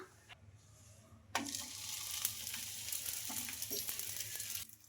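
Rumali roti fries in oil on a hot pan, giving a steady hissing sizzle that starts abruptly and holds for several seconds, with small clinks and pops mixed in, then stops.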